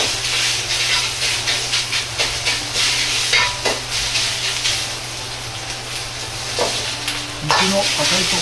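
Pork being stir-fried in a pan and spread around with a ladle gives a loud, steady sizzle and hiss, with rhythmic scraping strokes close up and a low hum underneath.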